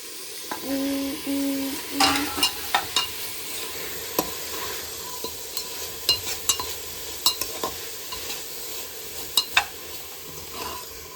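Soybeans and vegetables for biryani are stirred in a pressure cooker, a soft sizzle under repeated clicks and scrapes of a spoon against metal, close, with a brief tonal beep near the start.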